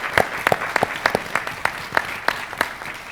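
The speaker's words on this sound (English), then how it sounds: "please let's give our panelists a round of applause" A small audience at a Black Chamber panel event in Sacramento applauds the panelists with sparse, distinct claps spread evenly over a few seconds.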